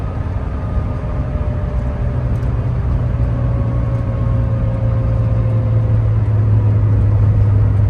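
A 1983 Porsche 911SC engine hums steadily from inside the cabin while driving in traffic, a low drone with a faint rising whine, no voices.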